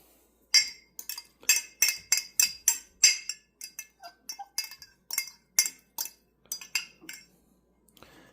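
Lard is spooned into a bowl of flour for flour tortillas, heard as a run of sharp metal-on-bowl clinks and taps in quick irregular succession, close and fairly loud with short pauses and no talk.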